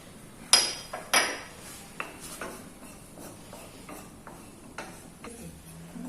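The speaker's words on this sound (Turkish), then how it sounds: "Bunu boş kavuracağız pembeleşene kadar." A utensil works through flour being dry-roasted in an empty pan for arabaşı soup. Two sharp metallic clinks come first, then softer, scattered scrapes and taps against the pan, close by and with no talking.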